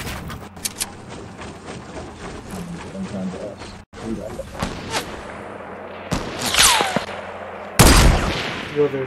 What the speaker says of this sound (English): they're taking turns shooting at me